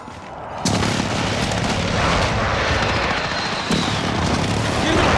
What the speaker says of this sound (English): Friendly precision airstrike